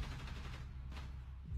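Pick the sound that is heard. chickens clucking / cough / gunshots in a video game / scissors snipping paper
gunshots in a video game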